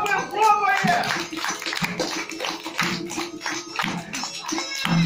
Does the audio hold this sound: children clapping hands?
yes